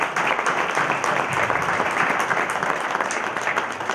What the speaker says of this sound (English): I ask all of you to give a big applause for the people who have come to this event.